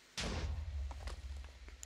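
Creeper explosion in the Minecraft video game: a sudden loud burst with a heavy low-end boom that decays into a rumbling tail over about a second and a half, with no talking.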